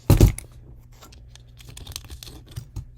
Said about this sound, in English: Cut right on the mark.